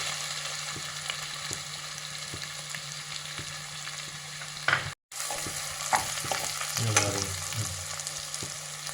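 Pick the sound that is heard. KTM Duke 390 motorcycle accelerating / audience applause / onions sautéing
onions sautéing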